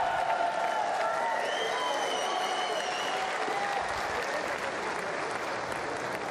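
Boxing arena crowd at a WBA title bout breaks into sustained, dense applause and cheering, loud and continuous throughout with some whistles rising above the roar.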